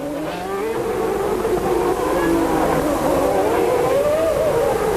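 Formula 1 race cars at the 1992 Monaco Grand Prix, a steady loud whining engine drone with shifting pitch sweeping up and down as cars pass through the street circuit, continuous throughout.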